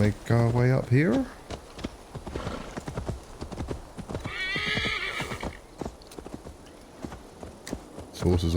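Steady clip-clop of horse hooves on a hard surface in the video game Assassin's Creed Valhalla, with a horse whinnying at the start and a person talking over the hoofbeats.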